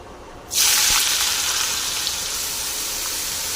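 Beetroot drops into hot oil with a sudden loud sizzle that settles into a steady hiss of frying, no talking.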